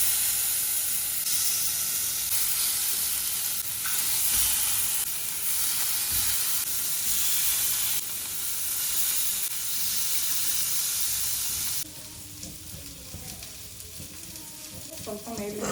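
Oil sizzling and hissing on a hot tawa as fish fries, a steady broadband crackle that holds loud for about twelve seconds, then drops to a softer sizzle with faint clinks near the end.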